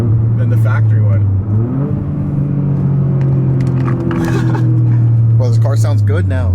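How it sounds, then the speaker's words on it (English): A Toyota GR Corolla with a modified exhaust idles with a loud, deep drone, then blips up in pitch and settles back down, while people talk over it. "this car sounds good now. It actually sounds good. It sounds like maybe a rally car"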